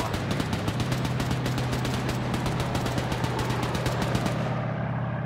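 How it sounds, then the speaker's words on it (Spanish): Sustained rapid machine-gun fire from the video game 82AD Liberation, a dense stream of shots repeating steadily for several seconds and then cutting off abruptly, with no talk over it. "Recibimos disparos, no sabemos desde dónde."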